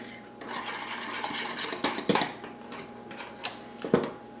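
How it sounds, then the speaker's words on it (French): Spoon clinks and scrapes against a bowl while a pork mixture is stirred for sweet and sour pork, giving irregular clattering taps over soft mixing noise, close and moderately loud with no talking. "Bien brasser."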